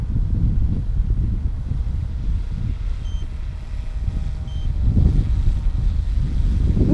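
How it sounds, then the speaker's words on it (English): Wind buffets the microphone outdoors during a model aircraft flight, a loud, steady low rumble that surges in gusts, strongest near the end, with no voices. "A little breezy out here, but not bad."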